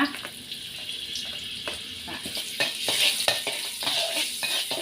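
Minced garlic stir-fries in a wok for a pork belly and ginger dish, sizzling with repeated scraping stirs of a spatula while a voice talks over it.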